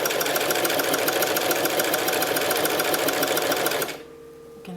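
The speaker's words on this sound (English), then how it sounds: "I'm going to actually make one more stitch just with a hand crank" Sewing machine stitching a house-shaped decor pillow, running steadily with a dense, fast mechanical whir for about four seconds before stopping abruptly, followed by a brief faint click as it is turned by the hand crank.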